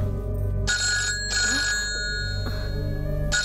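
A telephone rings in a household scene, sounding in loud repeated electronic bursts with short gaps between them and no voices over it.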